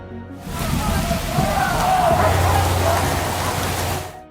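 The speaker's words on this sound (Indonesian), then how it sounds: "di tengah hujan deras" Heavy rain pours steadily in a dense, even hiss that swells in and holds at full strength, with a low rumble underneath and no voices.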